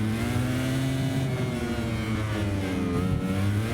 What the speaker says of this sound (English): I can hear his engine getting closer all the time.